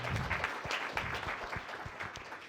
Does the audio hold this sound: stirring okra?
no